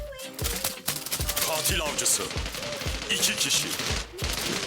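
Rapid gunfire bursts from the mobile shooter game Zula Mobile, with repeated sharp shots in an uneven rhythm, loud and close throughout, overlapping busy game sounds and a voice talking.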